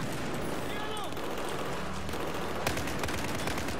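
Gunfire from a Battlefield 4 campaign battle, a dense stretch of shots with a sharper report near the end, running continuously beneath a speaking voice.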